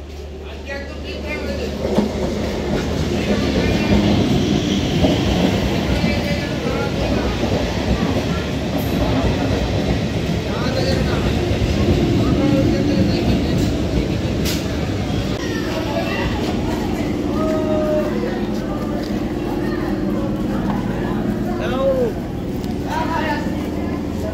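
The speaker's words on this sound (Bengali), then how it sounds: "ট্রেন কিন্তু এখন ঢুকে পড়েছে, নির্ধারিত সময়ের থেকে 11 মিনিট লেট করে ট্রেনটি ঢুকেছে।" A passenger train pulls into a railway station about eleven minutes late, its steady, loud rumble and clatter running the whole time, with voices in the crowd underneath.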